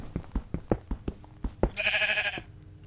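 A sheep bleats once in a Minecraft Lucky Blocks game, a clear wavering bleat that follows a run of sharp clicks and taps, with no talk over it.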